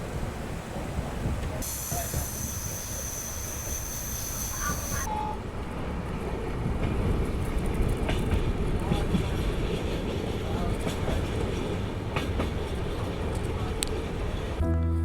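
Train rolling toward Sukhovi railway station in Nagaland, a steady broadband rumble of wheels and carriage running throughout, with a brief high whine early on and occasional clicks.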